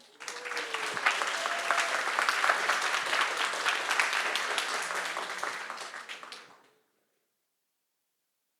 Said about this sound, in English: And please give yourself a big round of applause